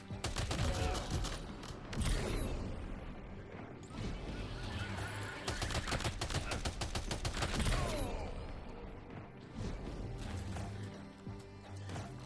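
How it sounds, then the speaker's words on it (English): Machine gun fire in the video game Death Stranding 2, with rapid bursts of automatic shots over dense game sounds and music, moderately loud, in several clusters across the stretch, with no talking. "let's grab this machine gun, shall we?"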